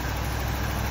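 The engine of a 1966 Imperial Crown car runs, fed from its gas tank. It gives a steady, low idle rumble for a brief moment with a constant high whine above it, and no voices are heard.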